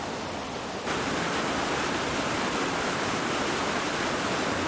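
The Harku stream in Harjumaa, Estonia, pours down limestone rapids in a dense, steady rush of water that grows slightly louder after the first second and then holds constant, close and unbroken, with no talking.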